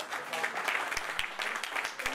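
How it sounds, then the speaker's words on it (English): An audience at an MIT Enterprise Forum fireside chat in New York gives a round of applause, a moderate steady patter of clapping with some voices audible underneath. "Let's give her a round of applause."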